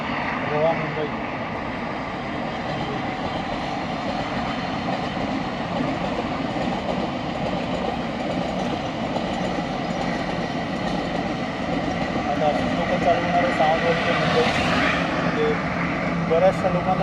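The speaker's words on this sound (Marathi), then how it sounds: "नाव घेतलं आणि वंदे भारत हजर" Vande Bharat express train passing on the Konkan Railway, a steady loud rumble of rolling wheels and rail noise that swells slightly near the end, heard up close and continuous throughout.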